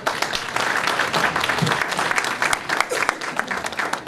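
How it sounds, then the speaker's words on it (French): A crowd at a campaign launch event in Canada for President Félix Tshisekedi bursts into sustained, loud applause with fluctuating clapping and scattered voices throughout. "Applaudissez pour lui."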